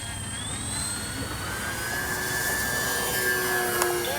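A radio-controlled FlightLine P-38 model airplane with twin electric motors takes off, its steady high-pitched whine holding loud and close throughout and rising slightly as it climbs away.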